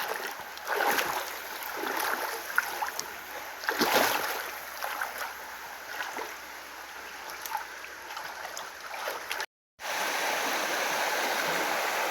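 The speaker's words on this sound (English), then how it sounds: "Not very deep, not very fast moving water." Shallow creek water flows over slippery rocks at a trail crossing near Laurel and Bradley Creeks, a steady close rushing and babbling with a few louder splashy surges and a brief dropout near the end.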